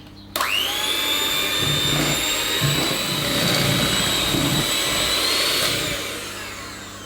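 An electric hand whisk mixes cherry cake batter in a bowl, a high steady motor whine that starts abruptly and holds close and loud for several seconds before fading slightly, with no talking.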